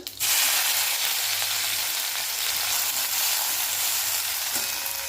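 Green chili paste hits hot oil already tempered with mustard seeds and cumin, setting off a steady, loud, continuous sizzle and crackle that holds for several seconds with no voices.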